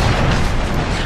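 A single massive explosion from a small weapon shot roars, dense and rumbling, filling the moment with loud, continuous blast noise.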